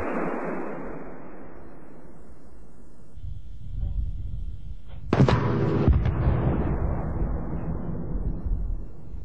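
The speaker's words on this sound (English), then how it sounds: "On impact, fragments, pellets, and intense heat are projected in a narrow cone," A Bofors 40mm 3P programmable round detonates on impact with a sharp blast, followed by rumbling debris and a lingering low roar after an earlier fading boom.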